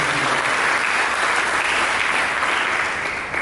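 Dense, steady applause from a church congregation fills the space, loud and sustained throughout before fading slightly at the very end.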